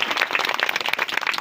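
Enthusiastic audience applause at a wedding celebration, a steady mass of close clapping with dense, crisp hand strikes throughout.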